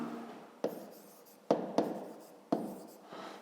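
A pen writes on paper during a math exercise, with soft close scratching strokes broken by a few distinct taps as the pen touches down.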